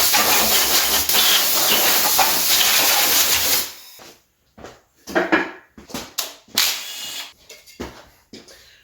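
Compressed air blasts over the intake of a 1970 Chevy Nova engine during teardown: a loud, steady rushing hiss for several seconds, then a run of shorter, sharp bursts with quiet gaps between.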